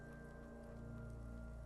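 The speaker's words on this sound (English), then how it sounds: "It's raining outside, light drizzle." Light drizzle falling outside a wooden shed, a faint, steady patter of rain with a low continuous hum beneath and no voices.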